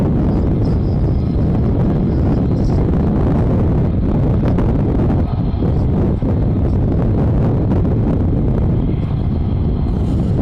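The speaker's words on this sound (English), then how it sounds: "you have to excuse the wind up here" Strong wind roars and buffets the microphone at an airfield beside RAF Lakenheath, a loud, continuous broadband rush with gusty swells throughout and no voices.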